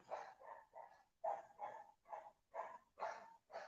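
A dog barks loudly and repeatedly in a steady rhythm of roughly two barks per second, close by, with no one talking.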